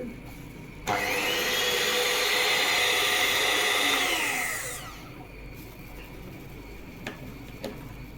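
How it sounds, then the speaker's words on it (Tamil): A blender whirs steadily for about four seconds while perfume is mixed into an aloe vera soap base, then slows and winds down. Its motor runs loud and near, followed by quiet with a few light clicks. "பெர்ஃப்யூம் மிக்ஸ் ஆகிறதுக்காக வேண்டி கொஞ்ச நேரம் பிளெண்ட்ரு"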